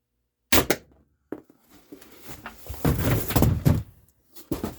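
Umarex HDR68 pistol firing homemade .410 ammo: two sharp, close cracks about a second apart, followed by handling clatter and knocks, then another crack near the end; no speech.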